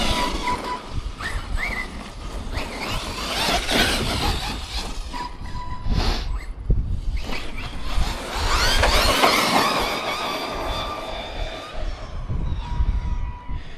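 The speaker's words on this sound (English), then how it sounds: "it seems to be revving out, that 2000 kV motor" A 4S FMS FMT-10 RC monster truck with a 2000 kV motor screams loudly as it revs out during hard bashing and jumps, a dense broadband whine with surging pitch and clattering impacts running through the whole stretch.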